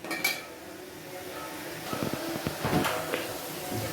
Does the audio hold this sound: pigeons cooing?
no